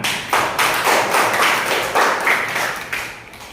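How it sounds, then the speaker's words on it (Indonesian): A classroom of elementary school pupils claps together during an innovative social studies lesson, a dense, steady patter of small hands that swells in a few quick bursts, close and fairly loud, with no voices. "tepuk tangan."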